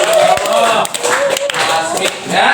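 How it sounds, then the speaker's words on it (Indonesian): Short burst of clapping from a small group in a classroom, fairly close and steady, with voices mixed in. "Tepuk tangan dulu untuk Hasmi"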